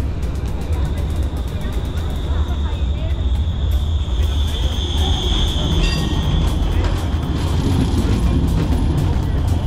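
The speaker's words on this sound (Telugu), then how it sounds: "రోడ్డు మీద ట్రైన్" A street tram rolls past close by with a loud, continuous low roar and faint metallic squeals riding on top.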